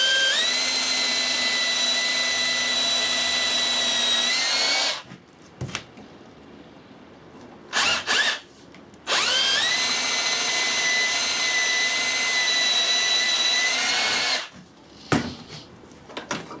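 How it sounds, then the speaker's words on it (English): A power drill bores through wood for a swing in two long runs of high whining motor pitch, each about five seconds, separated by quieter handling and short bumps. "Drill one through to the other."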